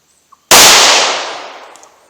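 A single sharp 9mm pistol shot fired with Gold Dot ammunition near a chronograph, one loud close crack with a long decaying ring-out, preceded by a faint tick.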